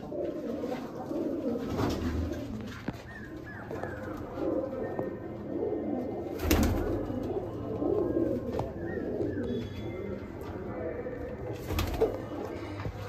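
Madrasi pigeons in a loft keep up a low, continuous cooing from several birds nearby, with occasional sharper bursts and a faint voice in the background.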